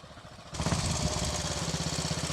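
A restored 1943 Matchless G3L motorcycle engine starts up abruptly after a quieter lead-in, then runs loud and close with a rapid, even thumping beat.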